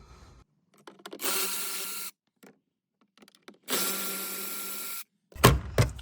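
Power driver undoing T25 Torx screws on an Audi TT upper dash panel: two sustained whirring bursts of about a second each, with quiet gaps and small clicks between, then a short louder double rattle at the end; no talking.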